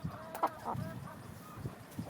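Newly introduced chickens give short, soft clucks at close range, a few scattered calls against a quiet background.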